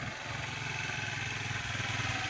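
A Suzuki Access 125 scooter engine runs at a steady, close idle with a rhythmic low chugging and some mechanical clatter, with no voices over it.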